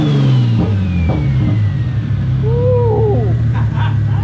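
A turbocharged car engine revs loudly and close, a steady rumbling drone with rising and falling pitch sweeps, while voices call out faintly underneath.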